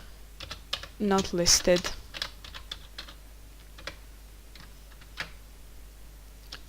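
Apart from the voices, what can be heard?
typing an Excel formula on a computer keyboard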